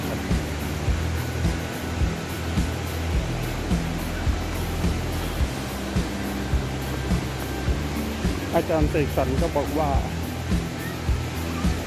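Continuous loud roar of Khlong Lan waterfall in Thailand, a dense unbroken wash of rushing water near at hand, with someone speaking over it and a brief higher chirping call late on.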